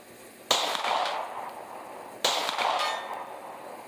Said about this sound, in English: Second shot, 100 yards with a micro pistol, Glock 43.